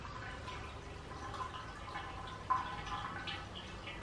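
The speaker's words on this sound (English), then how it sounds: "there's this trickling noise coming from inside." Water trickles and drips faintly inside an old stone well in Aberdeenshire, a soft hollow gurgle under steady outdoor background noise, with one brief sharper drip.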